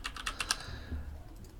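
Quick, close clicks of a computer keyboard as a word is typed in a run of rapid keystrokes, followed by a few lighter taps.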